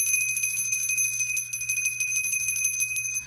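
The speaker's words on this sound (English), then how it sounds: "Ring the bell, mama." A handheld bell rung steadily in a tarot reading, giving a bright, continuous ringing with sustained metallic tones and rapid repeated strikes throughout, with no speech over it.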